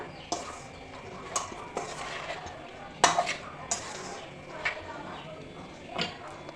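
A utensil stirs raw mango pieces, green chilies and fresh turmeric with cooled oil for a homemade pickle, with a scattering of distinct scraping clinks against the bowl spaced irregularly over a quiet background.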